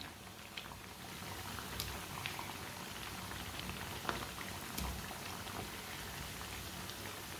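Chicken-free shami kebabs frying in oil, a steady, fairly quiet crackling hiss like light rain, with occasional brighter pops spread across the sound.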